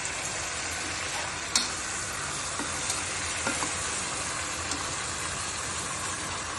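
Mutton pieces frying in ginger garlic paste inside a cooker, a loud, dense, continuous sizzle with a few sharp spatters and stirring clinks, close and unbroken, no talking.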